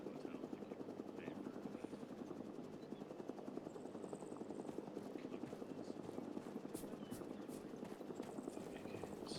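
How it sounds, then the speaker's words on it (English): Helicopters in a combat video game give a steady, fast rotor chop that holds at an even level throughout, with faint scattered game sounds and clicks over it. "it's the helicopters."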